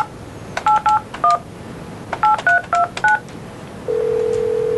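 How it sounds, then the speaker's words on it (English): A telephone keypad beeps out a dialed number in two quick clusters of distinct tones, followed by a steady continuous tone, all close and clear. "first you push this button, then you dial your number"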